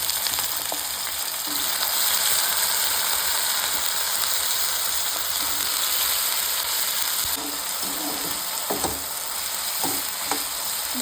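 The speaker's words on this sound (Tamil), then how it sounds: "எண்ணெய் லைட்டாக காஞ்சதும் நம்ம மஞ்சத்தூளில் போட்டு வச்சுருந்த வாழைக்காய் துண்டுகளை போட்டுக்கலாம்" Raw banana pieces frying in hot groundnut oil, a dense continuous close sizzle with occasional scraping and stirring clicks throughout.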